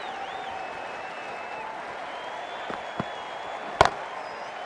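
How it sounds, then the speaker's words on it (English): Cricket crowd at an England versus West Indies T20 match, a steady distant roar of spectators with a few sharp claps and bangs standing out near the end. "It's almost palpable, the excitement emanating from this crowd at the moment."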